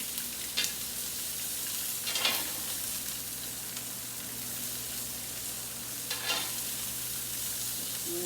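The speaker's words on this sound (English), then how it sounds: "I'm going to move these around. So I don't want them to burn, but I want them to cook." Asparagus shifted around in a frying pan, giving a faint, steady sizzle with a few soft scraping bursts as the spears are pushed about.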